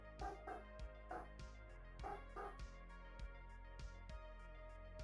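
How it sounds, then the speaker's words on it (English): A dog barks in short bursts, several yips repeated over a few seconds at moderate distance, with a steady low hum underneath. "One being, why is the dog barking?"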